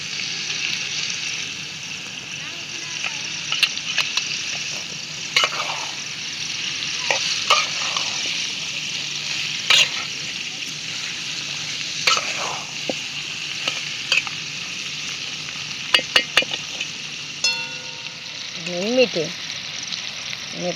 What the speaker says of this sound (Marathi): टमाटर टाकून मस्त असं जरा हलवून घेते